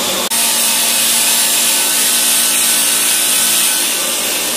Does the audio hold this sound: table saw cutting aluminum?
yes